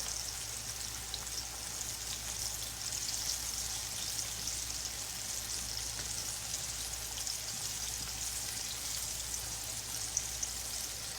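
Jalapeños fry in a pan with a faint, continuous crackling sizzle, steady and quiet throughout with no talking.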